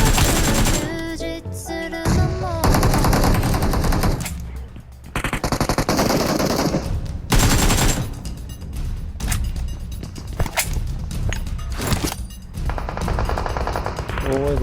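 Dense automatic gunfire and rapid bursts from a PUBG Mobile match, loud and continuous with brief gaps, layered with game music and sound effects, while players shout and talk excitedly over the shooting.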